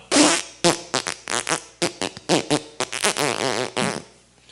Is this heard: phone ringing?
no